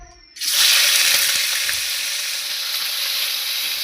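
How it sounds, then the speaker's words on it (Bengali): Fish, a bata fish, dropped into hot oil bursts into a sudden loud sizzle that stays steady and hissing for several seconds after a quiet start. "মাছ ভাজবো, মাছ ভাজে ঝোল রান্না করবো।"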